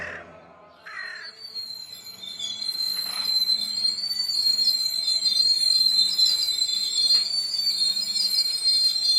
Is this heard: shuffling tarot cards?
no